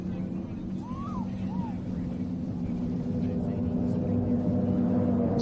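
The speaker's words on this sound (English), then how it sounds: "So that's Valentis running a 4-stroke 250 horsepower Yamaha VMAX." Offshore racing boat named Valentis with a 250 horsepower Yamaha VMAX four-stroke engine at a superboat championship on Lake Macquarie, a steady droning engine hum building slightly louder, with a brief whistle-like chirp near the start.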